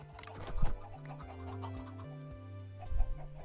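A Minecraft chicken clucks in short, close bursts, two louder clusters separated by a pause, over steady low game background music.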